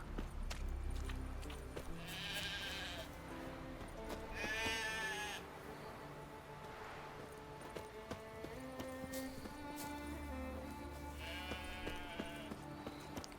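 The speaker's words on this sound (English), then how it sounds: "Hey sheep, come here." Sheep bleating in The Witcher 3 video game, several drawn-out bleats scattered across the stretch over steady hoof clip-clop and quiet in-game ambience, with no talking.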